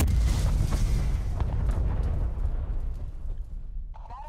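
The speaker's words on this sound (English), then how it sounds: "Artillery barrage" An artillery barrage in a video game: heavy, rumbling explosions roll together into one loud, continuous barrage that slowly thins out toward the end.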